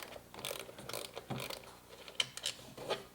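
Screws being backed out of a plastic engine cover on a 2009 Honda Civic, giving close, light ratcheting clicks and small mechanical rattles in short bursts with no talking.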